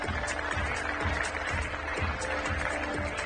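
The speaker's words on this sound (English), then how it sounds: "Please put your hands together for Team Utrecht" Crowd applause for the Utrecht squash team after an Eredivisie match at a squash venue, a dense steady clatter of clapping hands that carries on throughout.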